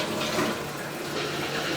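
A short burst of rushing water, flushed underwater to clear a camera lens, heard as continuous broadband gushing close up for about two seconds.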